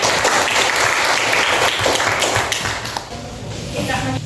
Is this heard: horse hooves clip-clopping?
no